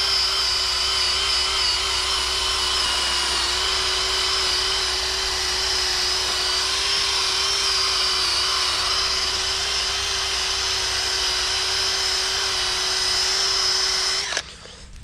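A power tool cleans up a crusty, pitted motorhome brake rotor, a steady high-pitched drill-like whine running loud and unbroken for nearly the whole stretch before cutting off at the end.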